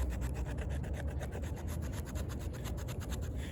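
Steady rasping scrape of a Shan Zu Vesta drop point knife's D2 steel blade edge drawn repeatedly across wood, a rhythmic, close, continuous rubbing with no talking.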